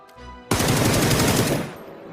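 Rapid automatic gunfire in a shooting game rattles loud and close in a dense burst of about a second, preceded by a low rumble and trailing off into ambience.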